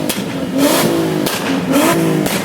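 Car with a VQ engine revving hard, repeated rising surges of engine roar in quick succession, loud and close.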